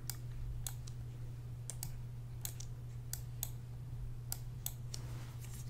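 Light, crisp mouse clicks come one by one at an uneven pace during retopology work in Maya QuadDraw, close and quiet over a steady low electrical hum, with no talking.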